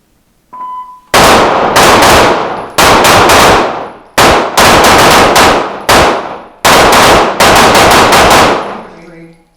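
SAR 9C and 9C Gen 3 pistols fire in rapid strings of loud, sharp shots with echoing tails, grouped into several bursts at close range on a shooting range.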